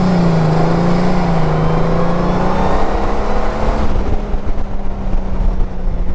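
A 2020 Honda Goldwing DCT motorcycle accelerates hard, its loud engine drone climbing in pitch, easing through a smooth gear shift, then settling under strong wind rush.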